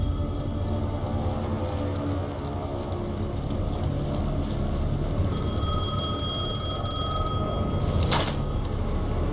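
A telephone rings in the video game Alan Wake 2, its bright repeating tones entering partway through over a dense, rumbling ambient background.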